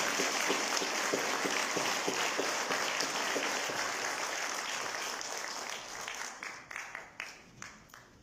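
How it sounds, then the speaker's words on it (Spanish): Audience applause at a lecture on oral litigation techniques to a bar association in Lima: dense sustained clapping from a crowd that gradually thins into a few scattered, separate claps at the end. "Un aplauso por la obra."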